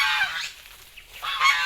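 Geese honk loudly in bursts close by, a short pause of quieter noise between the calls.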